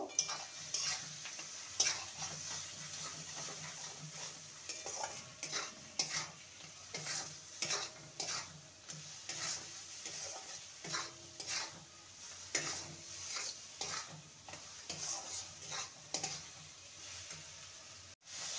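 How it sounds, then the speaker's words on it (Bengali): Bitter gourd (kakrol) frying in a pan and being stirred, with a steady sizzle broken by frequent scraping strokes of a spatula in an uneven rhythm, close and moderately quiet, with no talking. "কাঁকরোলটাকে লো টু মিডিয়ামে রেখে ভালো করে নেড়ে নিতে হবে"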